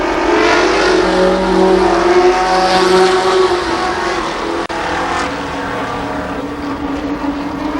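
Race cars roar around Columbus Motor Speedway during an ARCA Pro 4 race, a loud continuous engine drone with shifting pitch as the pack passes, steady throughout.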